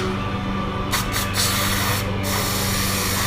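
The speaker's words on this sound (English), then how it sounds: "I hit it with some brake clean" Brake cleaner hisses onto a Suzuki DRZ400 part in several short, close spray bursts over a steady background hum.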